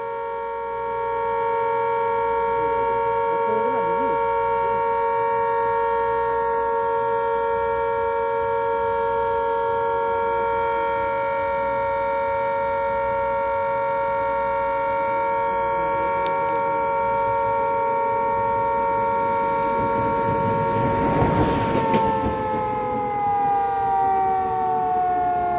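A dam warning siren at Rengali Dam on the Brahmani River in Angul, Odisha, signals water release through the turbines. Its steady, loud tonal wail holds unbroken for the whole stretch and swells slightly near the end.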